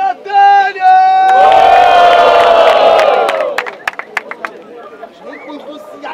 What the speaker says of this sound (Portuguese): Barulho pra essa batalha!